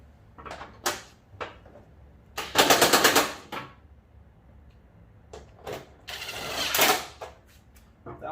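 Bolts on a fiberglass airdam are tightened one at a time on a 1990 Chevy S10 minitruck, making several short, sharp mechanical bursts and clicks with quiet gaps between them.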